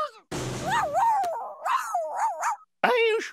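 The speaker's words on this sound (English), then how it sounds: "Take the poodle away." Cartoon poodle whimpering and yipping, a run of rising and falling whines and short yelps at close range, loud and expressive, after a brief burst of noise.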